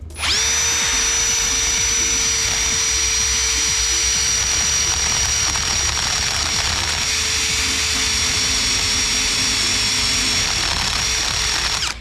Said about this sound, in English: All right, let's get the drill.